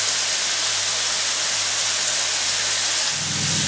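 A beef burger patty for a double cheeseburger sizzling in a pan, a steady loud hissing crackle close by with no pauses and no voices.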